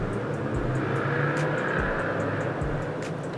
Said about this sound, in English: your car is too freaking loud